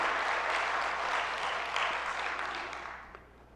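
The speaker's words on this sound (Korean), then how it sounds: "이 모든 것 묶어서 다시 한번 박수 한번 주님 앞에 올려드리겠습니다" Congregation in a church sanctuary during a Sunday worship service breaking into sustained applause, a dense wash of many hands clapping together that holds steady and then slowly tapers off near the end.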